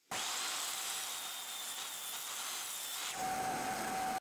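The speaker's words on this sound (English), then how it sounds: "set your table saw blade to 9 degrees also, and rip the remaining wood from the leg" A table saw, blade tilted to 9 degrees, rips pallet hardwood from a stool leg in one continuous loud, close whine and rasp for about three seconds, then spins on with a steadier tone as the cut ends.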